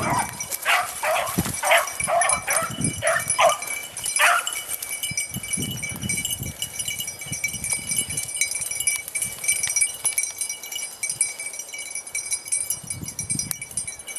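Beagle hounds bay and yelp in a run of sharp bursts early on while chasing rabbits outdoors, then thin out to scattered distant cries over a steady background hiss.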